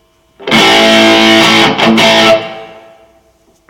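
A fuzzy, heavily distorted electric guitar chord through a vintage fuzz pedal rings out loud and alone, briefly choked, then sustains and fades away.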